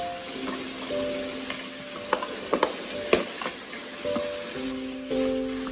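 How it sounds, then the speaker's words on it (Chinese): Green beans are stir-fried in a wok over high heat, seasoned with salt, chicken bouillon and oyster sauce, giving a steady sizzle broken by sharp scraping clanks of the spatula. "继续开大火快速的翻炒，让四季豆炒至入味"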